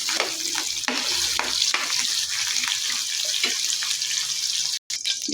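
Garlic and onion sautéing in a pan for menudo, a loud close hiss of frying with repeated scraping stirs, briefly cut by a silent gap near the end.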